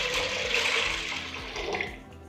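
Water pours steadily into a pot of homemade chicken corn soup, a continuous splashing wash that stays fairly loud for about two seconds before easing slightly, with no talking.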